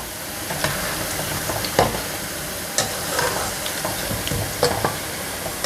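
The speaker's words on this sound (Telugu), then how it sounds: "అందుకోసం కొంచెం అటు ఇటు కలుపుకుంటూ వేపుకోవడమే" Punugulu fry in hot oil while being stirred back and forth. A continuous close sizzle runs throughout, broken by periodic scraping stirs.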